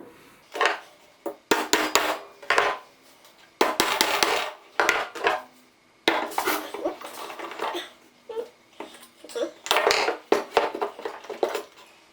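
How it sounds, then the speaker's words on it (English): Close, repeated bursts of metal scraping and creaking against wood, coming in uneven pulls with short pauses between them, as a nail is levered out with the straightened flat claw of a Wiha electrician's hammer. "use the Wiha hammer with the straightened flat claw to prise it off"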